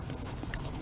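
A pad loaded with Bon Ami cleanser scrubs a steel knife blade, a steady close rasping rub that continues without pause.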